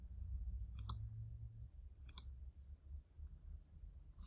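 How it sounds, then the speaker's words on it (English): Two sharp, isolated mouse clicks about a second apart while adding points in Adobe Illustrator, crisp and close over a low, quiet background hum. "clicking to add points"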